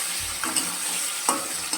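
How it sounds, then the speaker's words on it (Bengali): Continuous oil sizzle from potatoes frying in a pan, with occasional soft stirring scrapes and no voices. "আমি যে আমি আলুটা ভেজে নিচ্ছি আলুটা ভাজা হয়ে এসছে"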